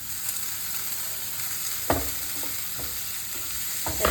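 Yellow capsicum and chopped chilli fry in a little oil in a pan, a continuous soft sizzle with a few sharp stirring clacks close by.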